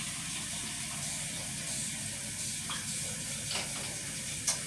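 Hot water runs steadily from a tap into a bucket during bathroom cleaning, giving a constant hissing, splashing rush at close range with a few small clinks near the end.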